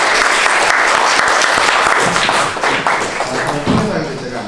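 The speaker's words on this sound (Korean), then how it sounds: "여러분 정윤혁 교수님 큰 박수 맞아주시고." Loud, dense applause fills the hall at a media management society talk concert as a panelist is welcomed. The applause is close and sustained, then tapers off with some clatter and thumps as it fades.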